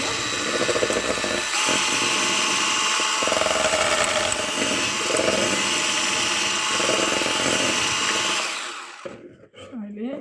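An electric kitchen mixer whirs loudly and steadily while beating a runny, crepe-like batter, then winds down and stops near the end, leaving faint clatter and a voice.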